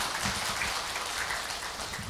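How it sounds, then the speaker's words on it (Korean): Applause from a church audience thanking a lecturer after an evening talk, a soft, steady patter of clapping held at moderate distance for a couple of seconds. "오늘 밤 우리에게 명강의를 해주신 강사님에게 우리 감사의 박수를 보내드리시면 고맙겠습니다."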